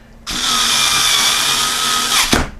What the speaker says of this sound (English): this screwdriver comes in handy when you're dealing with fans, because sometimes they can be a bear to get the screws in